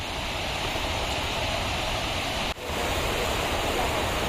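Rivers and forest streams rush in Meghalaya near Kongthong village, making a continuous, loud, even roar of flowing water with no voices over it.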